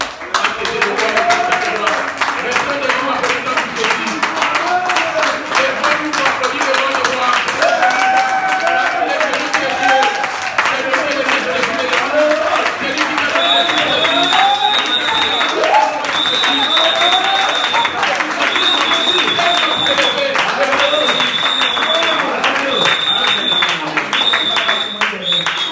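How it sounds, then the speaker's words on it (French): A church congregation applauds steadily and loudly for a long stretch, dense clapping with crowd voices and cheering mixed in, while a higher sustained tone enters partway through. "Applaudir Jésus."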